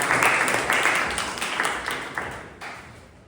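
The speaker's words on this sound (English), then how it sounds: "The big round of applause." Clapping from a Toastmasters club meeting audience, a brisk round of many hands close by that starts strong and gradually thins out, fading toward the end.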